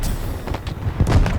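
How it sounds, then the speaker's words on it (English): A grenade blast in the shooter game Battlefield 6, a dense low booming rumble with scattered crackling bursts across about a second and a half, loud and close with rolling low-end thuds. "Watch this grenade do"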